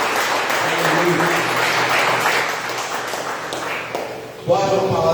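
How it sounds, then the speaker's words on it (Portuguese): Congregation at a Brazilian evangelical worship service clapping, a broad wash of applause under a speaking voice that fades, then a crisper burst of claps near the end. "Dê uma salva de palmas ao Senhor."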